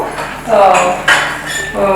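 Brass pooja vessels and utensils clink and clatter as they are handled in a small home kitchen during Ugadi. The metallic knocks and rings are close and fairly loud, with talk in the background.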